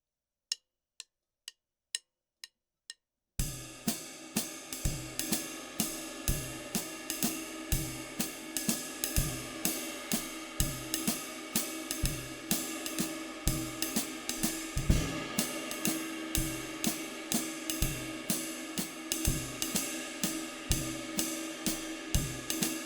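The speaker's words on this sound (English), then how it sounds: "the fun part in 3/4 comes when we start varying that ride cymbal pattern" A jazz ride cymbal plays a steady swinging pattern in 3/4 time, opening with a few isolated taps before settling into a continuous, shimmering groove.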